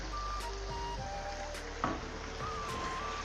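Garlic and ginger paste frying with chicken in a pan for palak gosht, a steady close sizzle with light stirring scrapes and a faint electronic beep in the background.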